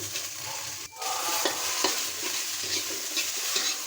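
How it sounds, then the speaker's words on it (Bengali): Onion and green chilies frying in a pan, a bright steady sizzle punctuated by repeated scraping strokes of a spatula stirring them, close and moderately loud. "আমি এখন পেঁয়াজটা দিয়ে দিব।"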